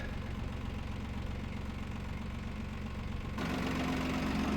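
A tractor engine, with a plough attached, idles steadily with a low rumbling drone, close by, then its pitch and loudness rise slightly near the end.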